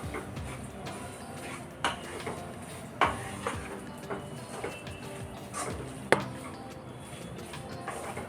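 Egg masala is stirred in a pan, with a spoon scraping and tapping against the metal in soft, irregular strokes and a few sharper knocks, fairly close and alone.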